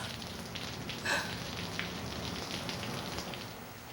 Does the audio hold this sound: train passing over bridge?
no